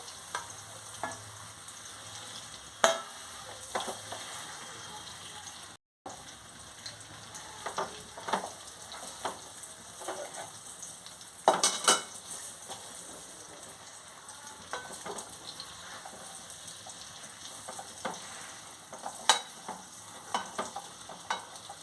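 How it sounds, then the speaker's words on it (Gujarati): Dates roasting in ghee on low heat, with a continuous gentle sizzle and frequent scraping stirs of a spoon against the pan, steady and close throughout, with no talking. "ખજૂર ધીમા તાપા આવી રીતના શેકી લેવો"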